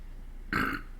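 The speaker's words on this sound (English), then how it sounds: "Belch." One short, loud burp bursts out close to the microphone midway through, after a stretch of low background hum.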